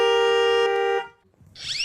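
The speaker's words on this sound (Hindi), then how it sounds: "हॉर्न बजाओ" A vehicle horn blares in one loud, steady, sustained blast lasting about a second, then cuts off, followed by a brief quieter sound.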